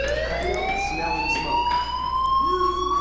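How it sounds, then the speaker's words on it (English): A fire alarm rings inside the video game Life is Strange, a steady rising electronic tone with strong harmonics, loud and continuous over faint background ambience, with no one talking. "Hey, do you hear that fire alarm?"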